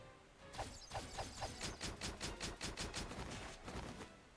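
A firing squad in the video game Octopath Traveler lets loose a loud, rapid volley of roughly a dozen gunshots in an even rhythm, with no voices over it.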